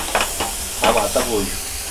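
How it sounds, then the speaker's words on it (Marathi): Mushrooms sautéing in a pan as their released water cooks off for a paneer mushroom masala, giving a soft sizzle with a few brief stirring scrapes, close by, over roughly two seconds. "आता हे पाणी सुकेपर्यंत आपण थोडंसं परतूया"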